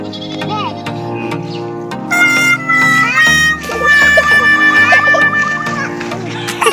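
A goat in a village in the morning, being fed leaves, bleats repeatedly in loud, wavering cries, mixed with a voice that may be imitating the bleat.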